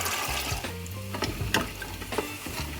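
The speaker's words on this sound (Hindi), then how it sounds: "ये हमारे पास फ्राई हो रहे हैं चने" Chickpeas frying in hot oil for Lahori-style chana, a steady low sizzle and bubbling with faint stirring clicks, close and continuous without talk.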